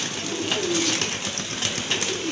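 A pair of exhibition pigeons coo softly and repeatedly at close range, low murmuring calls rising and falling over steady background hiss, with no voices.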